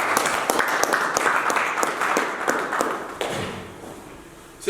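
A church congregation at a prayer service applauds, a dense, sustained wash of clapping with sharper individual claps standing out, easing off slightly toward the end.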